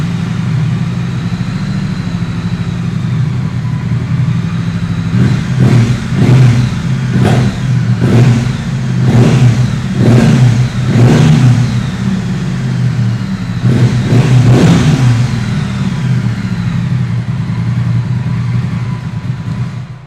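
A 2020 Triumph Bonneville 900cc motorcycle with 11,000 km on it idles with a deep rumble, then gets a series of sharp throttle blips, about nine revs in short bursts, before settling back to idle, heard up close.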